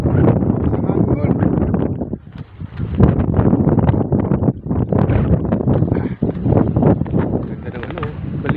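Strong wind on a seaside outing near fish pens, a constant low roaring buffet over the microphone, with people talking throughout.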